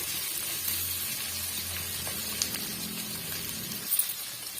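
Onion and chili sautéing in hot oil in a pan for a bell pepper dish, a steady close sizzle and hiss running throughout with faint clinks near the end.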